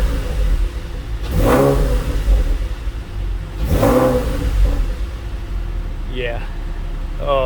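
A Porsche 997.1 Carrera 4S idles with a low steady hum, then its engine is blipped twice in quick, sharp revs that fade back to idle, followed by a faint third rise.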